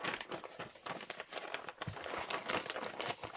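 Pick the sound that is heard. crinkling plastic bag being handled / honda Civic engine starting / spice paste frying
crinkling plastic bag being handled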